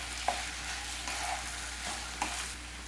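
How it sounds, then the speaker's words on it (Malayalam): Mashed potato samosa filling stirred in a hot pan, a soft continuous sizzle with occasional scraping spoon strokes and a couple of light taps against the pan, close and without talk. "എല്ലാം കൂടി നന്നായിട്ടൊന്ന് മിക്സ് ചെയ്ത് കൊടുക്കാം"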